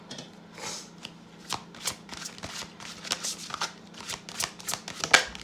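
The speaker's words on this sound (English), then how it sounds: "let's go ahead and pull some confirmation cards for you" Tarot cards are shuffled by hand in a quick series of crisp riffles and slaps, close and fairly loud, with short rhythmic bursts repeating over several seconds and no speech.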